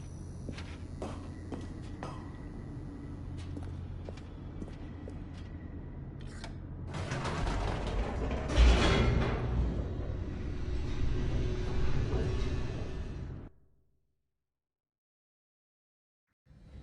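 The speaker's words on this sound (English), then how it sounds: "The elevator raced downward, plummeting towards an unknown fate." In the video game The Stanley Parable, an elevator descends with a rising mechanical rumble and a few clanks and knocks, growing louder toward a heavy thud, then cutting to silence.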